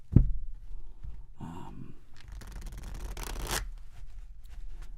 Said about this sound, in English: I'm just going to go ahead and shuffle now